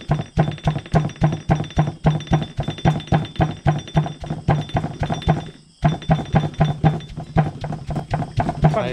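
A pestle pounds water-soaked rice in a mortar with steady, rhythmic, close-up thuds, one brief pause partway through, then the same quick pounding resumes.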